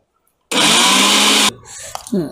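A kitchen mixer grinder whirs at full speed grinding garlic, coconut, green chilli and cumin for a village-style niger seed chutney, a loud steady one-second burst that then stops, followed by quiet clattering and a brief voice.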